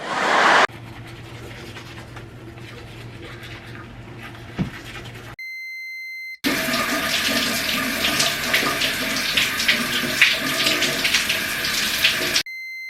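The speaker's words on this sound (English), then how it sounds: "shower up, clean ourselves off, get into these pajamas, brush our teeth" Steady running water from a shower or tap, a dense continuous hiss after a quieter opening stretch, broken by a brief pause before resuming loudly and evenly.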